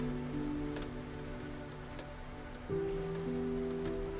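Rain falling on a lake beside a boathouse at night, an even hiss of drops with faint taps and a low humming tone that shifts partway through, no talking.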